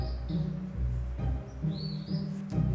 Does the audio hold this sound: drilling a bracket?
no